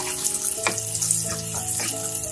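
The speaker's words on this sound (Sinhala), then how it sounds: "පොල් තෙල් මේසේ හැඳි දෙකක් විතර වක් කරා හට්ටියට තෙල් එකට ඉස්සෙල්ලාම සුදු ලුණු ටික දාගන්නවා" Garlic fries in hot coconut oil in a pot as the base for a Sri Lankan dhal curry, a steady close sizzle with a few soft clicks of a spoon against the pot, no talk.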